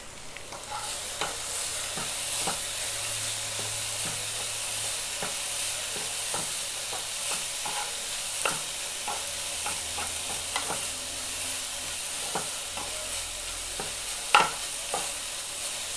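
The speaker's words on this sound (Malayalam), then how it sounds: "നമ്മൾ വറുത്ത് കോരിയ മുന്തിരി കൊണ്ടിട്ടിട്ട് നല്ല മിക്സ് ആക്കാം" Fried banana and raisins get stirred in a sizzling pan, the spoon scraping and clicking at irregular intervals over a soft continuous fry, with one sharper knock near the end.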